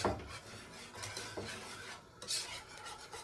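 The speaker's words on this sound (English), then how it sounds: "Keep whisking. Whisking the thing away." Whisk stirring a mixture in a bowl for Jamaican-style cooking, a soft scraping, swishing rasp with slight metallic ticks, faint and close, steady with small surges.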